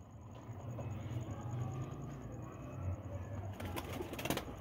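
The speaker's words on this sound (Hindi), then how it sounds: "ये कबूतर है" Low, soft pigeon coos repeat over a muffled background rumble, with a brief rattling clatter near the end.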